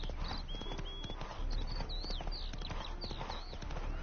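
Hooves of Geralt's horse Roach clip-clop steadily across ground in The Witcher 3, with whistling, swooping ghostly tones drifting above the continuous hoofbeats.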